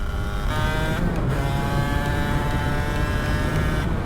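Aprilia RS 125 two-stroke motorcycle engine revving hard and close, a steady buzzing drone with rising harmonic bands as it climbs through the revs, loud and continuous throughout with no talking.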